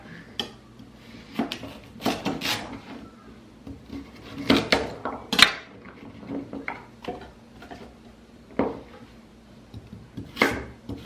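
Carrots being cut up on a cutting board during home weekly meal prep, giving a string of irregular knife chops and taps with clattering of kitchen utensils, close by, with no talking.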